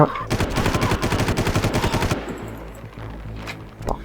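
Rapid bursts of automatic gunfire from a Far Cry shooter game, a loud stuttering volley of closely spaced shots lasting about two seconds, then fading into a low rumbling ambience with faint scattered noises.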